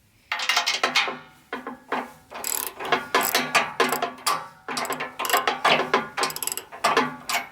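A ratchet wrench clicks in quick bursts, working on the deck bolts of a Wood-Mizer sawmill, several rapid runs of sharp, close, metallic pawl ticks separated by short pauses.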